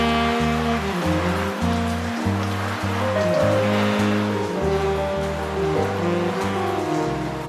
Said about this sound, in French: on la sort de son pot et ben on la douche